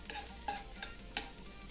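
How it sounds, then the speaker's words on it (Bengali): Whole cumin, bay leaf, cinnamon, cardamom and cloves fry in hot oil, giving a faint, soft sizzle with light stirring scrapes and small crackles, close and quiet with no talk. "তেলের মধ্যে এখন ফোড়নে দেব গোটা জিরে, তেজপাতা, দারচিনি, এলাচ আর লবঙ্গ। কয়েক সেকেন্ডের জন্য ফোড়নটাকে ভেজে নেব।"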